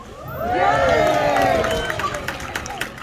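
A crowd at a safari park lets out a rising, collective cheer and shout that swells, then fades into scattered claps and murmurs.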